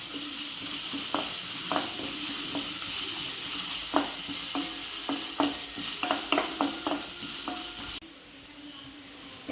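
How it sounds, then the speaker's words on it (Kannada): Masala for a Mangalorean clam curry sizzles loudly in a pan, with a constant frying hiss broken by repeated sharp clinks and scrapes of a stirring spoon before the sizzle drops quieter near the end; no talking. "5 ನಿಮಿಷ ಫ್ರೈ ಆಗೋಡು"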